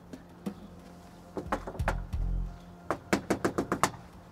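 Someone knocks on a wooden door in a house, scattered single raps and then a quick run of about seven sharp knocks, close and fairly loud with a dull thud in between.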